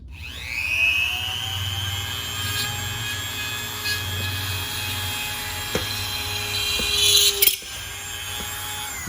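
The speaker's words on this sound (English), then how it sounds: "So now you just drilled 3 holes." A power drill whirs as it bores holes for custom headlights on a G35 sedan, a loud, close, sustained high whine that rises as it spins up and ends with a sharp clunk, with no talking.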